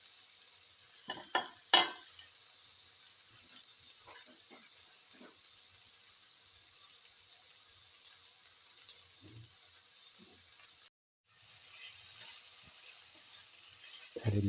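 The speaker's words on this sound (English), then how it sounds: "And let it fry." Eggplant fries in a pan for a fenugreek leaf yogurt dish, giving a steady bright sizzle throughout with a few louder crackles near the start and a brief drop-out toward the end.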